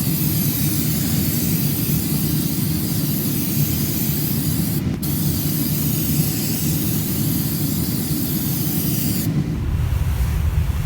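SprayMax 2K polyurethane aerosol can being blown through to clear paint from its nozzle, giving a loud, continuous, close hiss that runs unbroken, apart from a momentary dip partway through and a slight change near the end.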